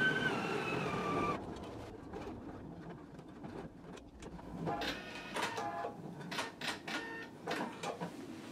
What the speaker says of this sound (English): we're gonna top stitch just right along the hood